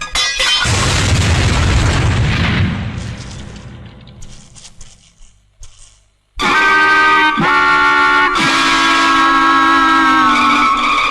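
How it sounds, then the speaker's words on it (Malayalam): A loud bomb explosion effect in a Malayalam comedy film scene, a heavy booming blast that rumbles and decays over several seconds, then a brief silence before bright, sustained music begins. "അയ്യോ ബോംബ്."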